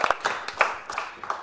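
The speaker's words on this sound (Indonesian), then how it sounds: "tepuk tangan dulu teman" Studio audience at an Indonesian comedy roast show clapping to welcome a celebrity guest, a short burst of scattered, uneven claps that quickly thins out.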